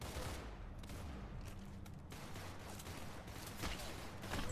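Rapid gunfire bursts in a Roblox video game, dense and continuous with overlapping shots over a loud game soundscape, with no talking.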